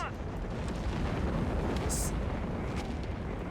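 A Stuka dive bomber strike in Company of Heroes 3 sounds as dense rumbling explosions and battle noise, loud and continuous, with a brief sharp crack midway and a commentator talking over it.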